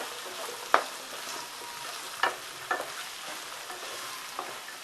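Mixed vegetables for Maharashtrian bhogichi bhaji are stir-fried in a pan, with a soft, steady sizzle and a few distinct spatula clacks and scrapes at irregular intervals.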